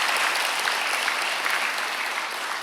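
A Korean church congregation at Sunday worship applauds, a continuous dense wash of many hands clapping evenly with no pauses, heard alone without speech.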